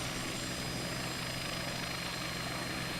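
Helicopter in a flight video game, a steady, dense rotor and engine roar that fills the whole stretch evenly and continuously, with no speech over it.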